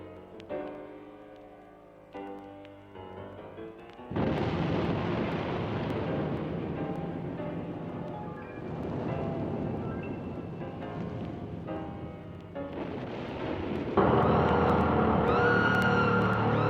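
Thunder effect on a Halloween record, with booming rumbling crashes swelling and rolling over dramatic background music, growing louder toward the end, no voices.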